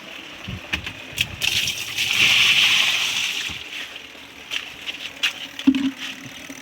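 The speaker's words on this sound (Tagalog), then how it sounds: "lalagyan na natin siya ng tubig" Water is poured into a clogged household drain, a sloshing gush that swells for a couple of seconds and then fades, with scattered knocks and splashes around it.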